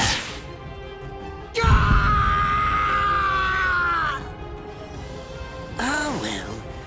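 A man screams in pain in the Bleach Rebirth of Souls video game, a long strained cry rising and falling over a low game soundscape, followed by a shorter pained groan.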